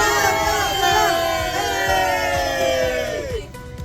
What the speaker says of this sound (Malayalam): ഇനി നമ്മൾ കാണാൻ പോകുന്നത് നമ്മുടെ ഒരു ആരവമാണ്